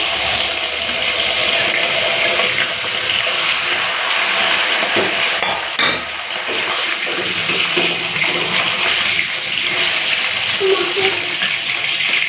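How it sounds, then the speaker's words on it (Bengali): Rohu fish heads frying in well-heated oil, a loud continuous hissing sizzle that runs steadily throughout with a brief dip midway, close up, with faint background talk. "এখন আমি মাছের মাথাগুলো ভেজে নেব তেলটা ভালো করে গরম করে দিয়েছি"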